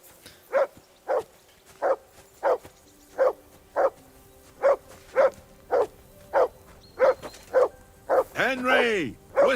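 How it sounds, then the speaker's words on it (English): A dog barks in Kingdom Come: Deliverance II, about a dozen evenly spaced sharp barks over ambient game sound, ending in a rising and falling whine or yelp. No one speaks. "Whistle at that mutt of yours to stop barking!"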